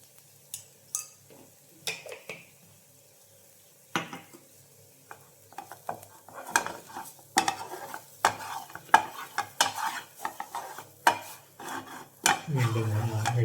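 Spoon stirring a spiced mixture with coriander powder in a metal pan, with repeated scraping and clinking strokes that grow louder and busier, plus a faint sizzle and a pan clatter near the end.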